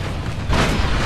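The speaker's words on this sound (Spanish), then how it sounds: "nuestros cohetes no pudieron pasar" A deep, rumbling boom of rockets exploding bursts out halfway through, following a low, steady background rumble in the Warhammer strategy game Call of Warhammer.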